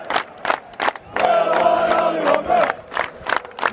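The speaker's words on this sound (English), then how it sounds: "We're still singing." Football fans in a stadium at a Gillingham versus Bolton match chant and shout as a crowd, with rhythmic bursts and a sustained sung passage in the middle, fairly close.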